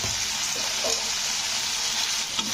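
Potatoes frying in a pan are stirred after the lid comes off, a loud, dense, steady sizzle close up with faint scraping movement and no talk.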